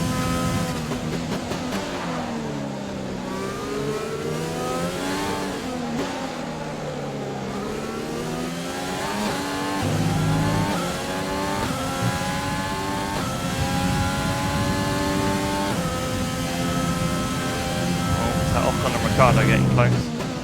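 Ferrari Formula 1 car engines in the F1 2020 racing game at the British Grand Prix, a steady high-pitched whine rising and falling through gear changes, continuous and loud, with someone talking over it.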